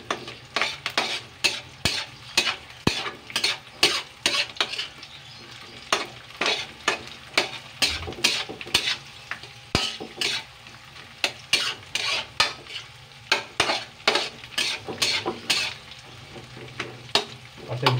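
Malunggay (moringa) leaves frying in a pan for an omelet, continuous sizzling punctuated by rapid, repeated scraping and tapping of a utensil against the pan, close and busy, no voices.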